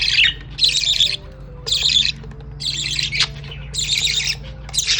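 A baby budgie parakeet gives a series of sharp, raspy squawks in short bursts, about six calls in a few seconds, close and loud over a low steady background hum.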